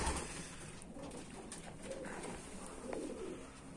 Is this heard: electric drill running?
no